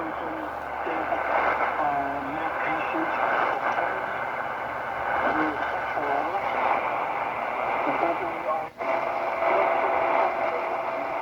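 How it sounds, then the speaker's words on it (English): Hissy, crackling shortwave static from a Tecsun PL-330 portable receiver on its built-in antenna, with a faint, buried station barely emerging through steady noise and a brief dropout near the end. "There is something there, but there's a lot of noise."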